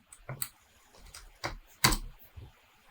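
Sparse, distinct clicks of keys being pressed on a computer keyboard while a terminal command is typed, a handful of irregular taps with one louder stroke near the end, quiet room and no speech.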